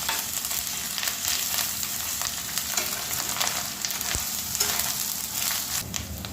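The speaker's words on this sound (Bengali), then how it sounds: "রসুন বাটা, আদা বাটা অ্যাড করতে হবে এবং একটু লালচে করে ভেজে নিতে হবে পেঁয়াজের সাথে" Garlic and ginger paste frying with onions in a pan, giving a steady, dense sizzle with light stirring scrapes throughout, close and continuous.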